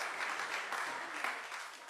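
Audience applause at an Army 250th anniversary breakfast reception, a fairly soft, steady wash of many hands clapping with no voice over it.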